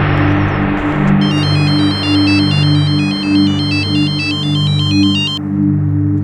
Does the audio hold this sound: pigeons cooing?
no